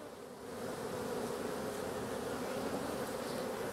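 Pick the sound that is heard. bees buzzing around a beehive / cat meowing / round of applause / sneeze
bees buzzing around a beehive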